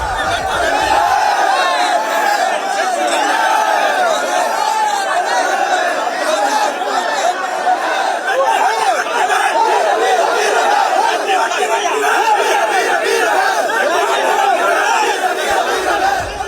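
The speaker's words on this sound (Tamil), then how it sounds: "அங்கிருந்த இந்து முன்னணியினர் கைகளை தட்டி ஆரவாரம் செய்து கூச்சலிட்டனர்" A dense crowd of Hindu Munnani supporters claps, cheers and shouts together in a continuous loud roar that holds steady for the whole stretch.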